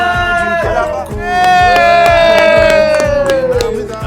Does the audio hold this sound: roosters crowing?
no